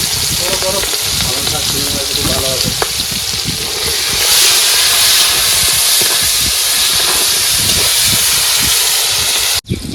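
Prawns sizzle loudly in hot oil, a dense continuous crackling hiss that grows a little stronger midway, with a faint voice briefly in the background early on.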